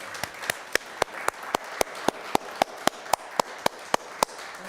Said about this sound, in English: give yourselves a round of applause for coming in today